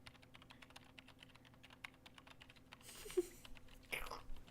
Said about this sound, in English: He's just sitting over there typing away.